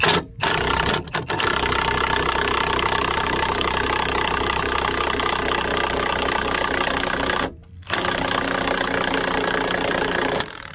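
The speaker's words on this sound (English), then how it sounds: "I got my Milwaukee impact out with a 17mm socket on it" A Milwaukee cordless impact wrench fitted with a 17mm socket works the lug nuts on a Mercedes GLE 350 during a flat tire change, giving a loud, steady mechanical whir that runs almost continuously, broken by two brief pauses.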